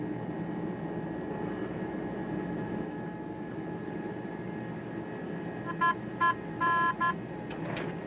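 Brief tonal beeps from cockpit navigation radios in an airliner being tuned and identified during a profile descent, a short cluster of four or five bursts near the end over a steady engine and cabin drone.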